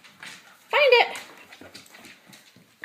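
A dog searching for a treat whines and pants close by, a sharp whimper followed by quieter sniffing and breathy panting in short bursts.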